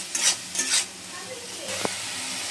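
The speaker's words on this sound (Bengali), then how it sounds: "দিয়ে এবার মশলা ভালোভাবে একটু কষে নেবো মাংসটা" A spatula scrapes and stirs chicken with spices and turmeric in a hot pan, producing a couple of quick scraping strokes over a steady frying sizzle, close and fairly loud.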